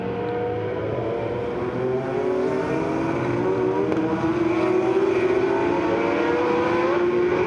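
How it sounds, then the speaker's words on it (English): Race cars including a BMW M3 GTR roar past at a vintage motorsport race at Monterey, one engine climbing steadily in pitch as it accelerates up the track, loud and continuous with other cars blending behind. "Great view of all these cars as they come up."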